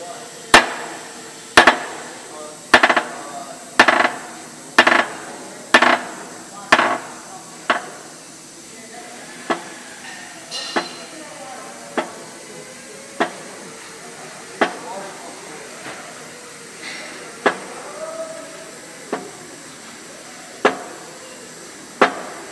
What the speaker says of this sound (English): as we press down, the universal joint's going to stop when it hits that snap ring